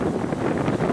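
Wind buffets a handheld microphone outdoors, a steady loud rumbling roar with gusty fluctuations across the whole moment, no voice over it.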